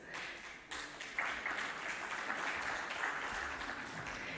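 Applause from the audience at the LankaPay and Fonepay MOU signing ceremony, a moderate, even wash of clapping that swells after a brief dip and carries on steadily for a few seconds.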